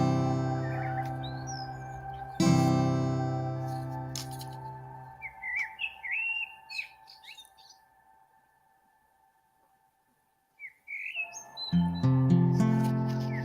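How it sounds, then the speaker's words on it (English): Birds chirp and tweet in short, high bursts, fairly faint and in the background, between loud sustained tones of music that fade out and return. "I can hear the birds in the background"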